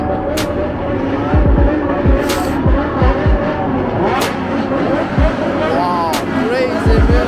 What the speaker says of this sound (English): They are racing now. They are racing.